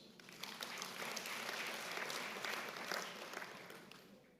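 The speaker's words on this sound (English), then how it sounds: "We want to also give you a round of applause." Faint, even applause from an audience at a university's tenth-anniversary celebration, a continuous patter of many hands that holds steady throughout with no talk over it.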